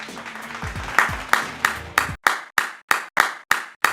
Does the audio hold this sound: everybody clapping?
yes